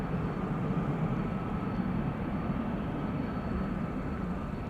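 A Cathay Pacific airliner departing Amsterdam Schiphol Airport, a steady, loud, broadband engine roar held at constant strength throughout.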